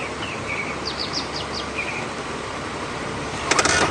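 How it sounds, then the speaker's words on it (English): Small bird song in a sunlit forest glade on an early-morning African safari drive, attributed to a white-throated robin: short rising chirps and whistled notes scattered across the first two seconds, fairly faint over steady vehicle and ambient rumble. "I think it's one of these little white-throated robins"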